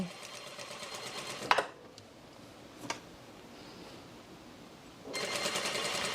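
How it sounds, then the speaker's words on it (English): A home sewing machine stitches along the edge of twill tape on a pants project, whirring in a close burst, pausing with a couple of faint clicks, then starting up again. "And then I'm gonna sew about a 1/16 of an inch away from the edge of the twill tape."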